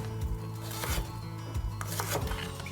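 A knife slices carrots on a cutting board in a kitchen during preparation of Uzbek plov, making soft, close, irregular chopping taps against the board with scraping between them.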